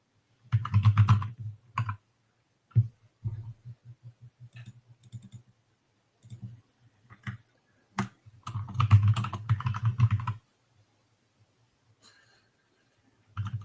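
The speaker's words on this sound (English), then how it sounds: "I'm typing" Keys clatter on a computer keyboard in uneven bursts of typing, some fast runs and some single taps, close and distinct against a quiet room.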